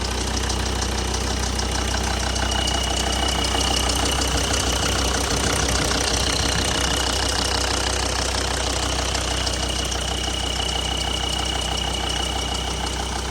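A Volvo D5 diesel engine, freshly serviced after intake and cam cover removal, running with a constant rough, knocking diesel clatter, close up and loud, steady throughout with no voices.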